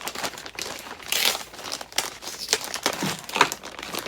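Zip-lock plastic bags are handled and opened up close, giving irregular bursts of crisp crinkling and rustling that rise and fall over several seconds, with no speech.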